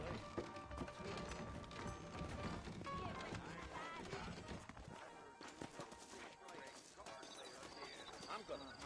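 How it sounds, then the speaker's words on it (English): Horse hooves clip-clop steadily in the Red Dead Redemption video game, blended into a dense game soundtrack with music and a voice talking over it. "I got the horses saddled up and ready out front."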